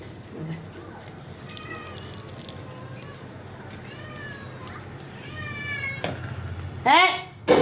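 A pet cat meows repeatedly in a home kitchen where egg halwa is being cooked, a string of rising cries with a louder burst near the end, over low background noise.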